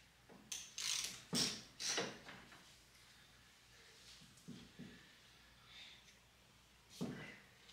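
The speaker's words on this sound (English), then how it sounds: "that's tightening up on the nut again" A ratchet wrench tightens a nut while a front end is swapped on a Honda CB750 motorcycle, giving a few faint clicking ratchet bursts with quiet pauses between them, up close in a workshop.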